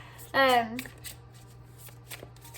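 Tarot cards are shuffled by hand at close range, a quick series of soft papery riffles and taps, with a short burst of voice near the start.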